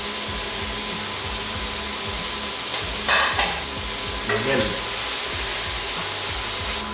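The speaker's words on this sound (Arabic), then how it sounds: "أول ما يلين الثوم أبدأ أرمي الخضار" Vegetables frying with garlic in a pan, a continuous close sizzle with a few brief scraping stirs of a utensil partway through.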